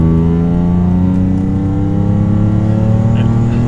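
The Busso V6 engine of an Alfa Romeo 147 GTA revs loudly and close up from inside the car, with a deep, rising drone that climbs steadily in pitch as it accelerates throughout.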